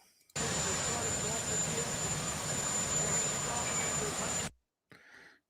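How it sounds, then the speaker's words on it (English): A helicopter hovers or passes overhead during a protest news stream, a steady loud broadband rotor and engine roar holding for about four seconds before cutting off abruptly, then faint talk. "It's hard to hear when you have the helicopter going on like that."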